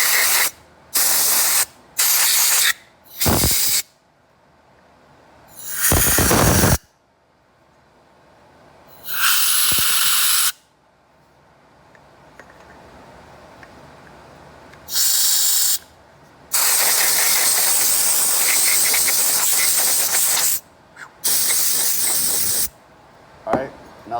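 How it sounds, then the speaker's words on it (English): Electronic dust and lint remover sprays onto Chevy GMC TBI throttle body parts in loud, close hissing bursts of varying length, some short and some several seconds long, separated by quiet gaps with faint clinks of handling. "I'm using some electronic dust and line remover,"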